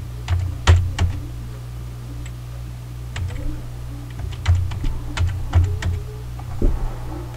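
A PIN being typed on a computer keyboard during Windows 10 account setup: scattered, close key taps in small uneven bursts with pauses between, over a low steady hum, no speech.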